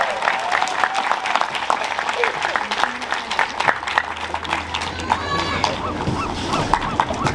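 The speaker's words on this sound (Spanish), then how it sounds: "que se escuche un fuerte aplauso" Loud, sustained applause from a large crowd at an outdoor public event in Oaxaca, continuous dense clapping with scattered voices and cheers mixed through it.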